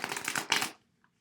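Oracle cards shuffled on a lap, a close dense riffling burst of papery flutter lasting under a second, then quiet.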